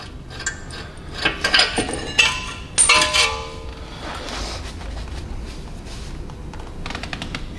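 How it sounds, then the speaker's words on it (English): Steel bolts reacting off a brake caliper on a Hyundai i30n Performance as the piston is pushed back, giving a cluster of close metallic clinks and clanks in the first few seconds, then a steady low workshop hum. "I just put these bolts in just to react off the actual caliper itself to push the piston back in."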